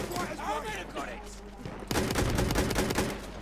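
Rapid machine-gun fire in Battlefield 1 during a night battle, a dense close burst that follows a voice and runs on to the end.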